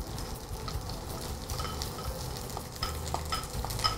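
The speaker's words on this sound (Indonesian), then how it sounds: "Ini kita masukin bawang merah, bawang putih, jahe." Shallots, garlic and ginger sautéing in oil: a steady close sizzle with spoon-stirring scrapes and occasional small pops.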